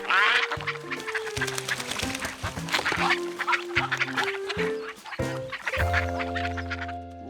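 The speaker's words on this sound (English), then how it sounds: "George had never had ducks swim all around him before." Cartoon ducks swim around a monkey on a river, quacking loudly and repeatedly in quick, overlapping calls over light musical tones, with no talking.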